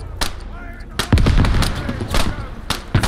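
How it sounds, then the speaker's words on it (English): Several sharp blasts go off in Squad, a military video game, mostly grenade explosions with heavy low rumble, spaced irregularly over a few seconds, close and loud with a voice shouting excitedly between them. "Grenade out! Grenades, baby! Nothing but grenades!"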